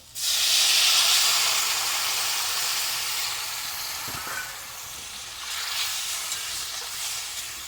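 Water is poured into a hot pan of crab, fish and potatoes, setting off a loud, sustained steaming hiss and sizzle that slowly eases but keeps bubbling throughout.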